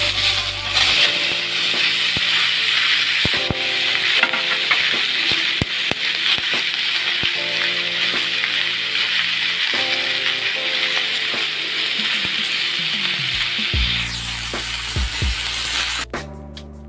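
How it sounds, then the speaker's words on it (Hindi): Chopped cucumber frying in a pan: a steady, close sizzle runs throughout, broken by repeated clinks and rattling scrapes of stirring, then tapers off at the end. "अब इसमें ये कटा हुआ खीरा डालेंगे।"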